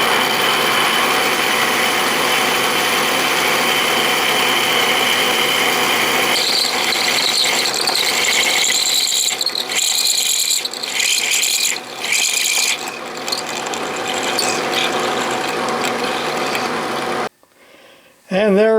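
Drilling a hole in metal for a quill stop on a machine tool: a steady whirring drill and motor drone that shifts in pitch as the bit cuts deeper, loud and close, then cuts off abruptly near the end.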